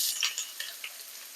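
Onion sizzles and fries in hot olive oil in a pan, a bright crackling hiss with a few louder pops near the start that settles into a steady, softer sizzle.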